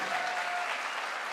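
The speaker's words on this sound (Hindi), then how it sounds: "एक बार जोरदार तालियां होनी चाहिए विनर टीम के लिए भी" An audience at a direct-selling motivational event breaks into dense, steady applause for a team, with the clapping continuous and even throughout the short moment and no talking heard.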